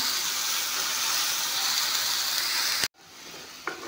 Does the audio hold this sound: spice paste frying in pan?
yes